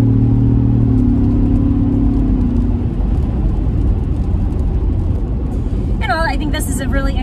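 A Ford Bronco Wildtrak accelerates on the road, heard as a loud, continuous engine rumble and whir from inside the cabin, with a rising tone that fades into steady road noise.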